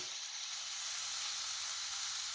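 Pot roast sears in a hot pan for a Dutch oven pot roast, giving off a steady, close, loud sizzle and hiss that holds without a break through the whole stretch.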